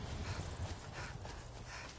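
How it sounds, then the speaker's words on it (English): A horse galloping in the video game Skyrim, its hoofbeats a continuous, fairly quiet clatter over a steady background wash. "I can run a horse straight up the mountain onto the path."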